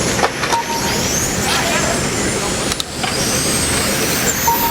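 Electric 1/10 RC touring cars in a 17.5T stock-motor class race around a track on the final lap, a steady high whine of motors sweeping past under continuous Portuguese race commentary.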